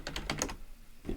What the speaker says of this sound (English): You can type in any password you like.